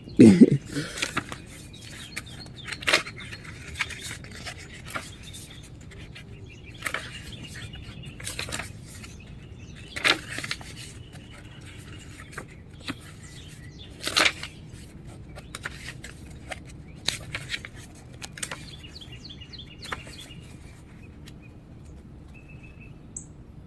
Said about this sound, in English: Just listening to the birds and stuff.